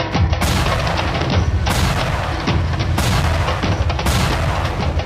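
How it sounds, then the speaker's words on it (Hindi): An artillery barrage of 137 guns shells the peaks of Tiger Hill during the Kargil war, a loud, continuous roar of booms and blasts with sharp bursts at regular intervals and no talk above it. "हमले के पहले भारतीय तोपखाने की 137 तोपों ने टाइगर हिल की चोटियों पर 30 मिनट तक लगातार गोले बरसाए"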